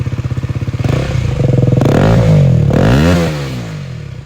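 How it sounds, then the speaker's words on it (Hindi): KTM Duke 250 motorcycle on its stock exhaust, idling with a steady throb before several close, loud revs that climb and fall back, heard alone. "स्टॉक एग्जॉस्ट का आवाज़ आप सुन लिए"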